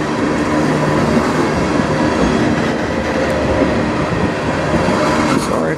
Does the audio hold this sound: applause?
no